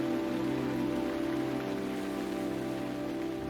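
Rain falls steadily in a Costa Rican tropical rainforest, a dense, even wash of drops on foliage and surfaces with no voices, holding constant from start to finish.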